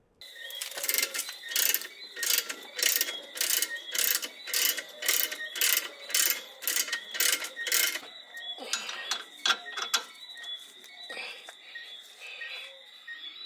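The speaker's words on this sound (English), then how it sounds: "So I'm going to use a jack now to line it up with the hole properly" A ratcheting car jack is pumped under a car during a strut mount and stabilizer end link job, with about a dozen evenly spaced clicking strokes close by, then slower, irregular clicks.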